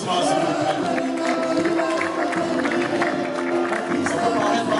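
Audience applause at an evening awards ceremony honouring heroes, held at a hotel: a dense, steady wash of clapping and crowd noise that fills the room, with voices mixed in throughout.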